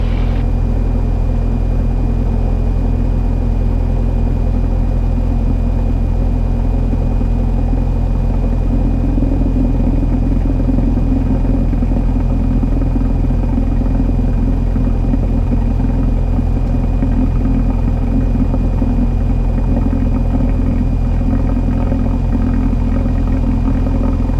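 A small aircraft's piston engine idles as it taxis, producing a constant low droning rumble with a steady hum, loud and close, continuing evenly with no voices.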